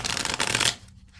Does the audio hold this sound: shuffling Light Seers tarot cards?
yes